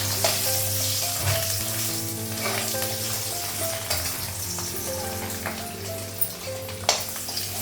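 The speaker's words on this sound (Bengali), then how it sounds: "ডিমটা ভাজা হয়ে গেছে" An egg sizzles in a frying pan, a continuous close crackle with a faint steady hum underneath and a few soft clicks toward the end.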